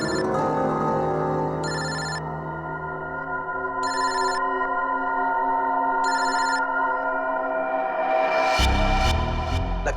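A telephone bell rings in short repeated bursts, three evenly spaced rings over a steady musical drone, ending with a louder thump at the close.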